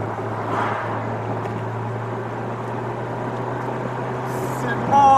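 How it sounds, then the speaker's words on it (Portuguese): Steady engine drone from a Ferrari California Turbo being driven, a constant low hum running throughout with cabin noise, swelling slightly louder at the very end. "driving your Ferrari, California Turbo"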